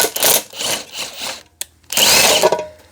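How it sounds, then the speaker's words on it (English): A power drill fitted with a 21 millimeter socket whirs loudly in two bursts separated by a brief pause, used to jack up a cruiser Harley-Davidson bobber motorcycle. "put you a 21 millimeter socket on your drill"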